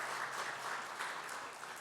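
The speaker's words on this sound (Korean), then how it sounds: "다시 복귀하신 김용원 장로님 박수로 우리 환영해 주시기를 바랍니다" Church congregation applauding during a Sunday service in Korea, a steady wash of clapping from many hands filling the whole moment at moderate level, with no voices over it.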